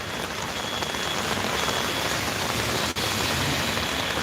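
Steady rainfall, a dense continuous hiss of drops on surfaces, loud and close throughout with no voices.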